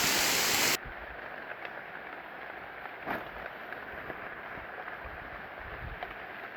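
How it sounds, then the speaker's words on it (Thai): Rain falls steadily in a forest, a continuous soft hiss of drops on leaves and ground at moderate distance, with a brief louder burst of noise at the very start and no talking. "ฝนตกในป่าเลยครับ"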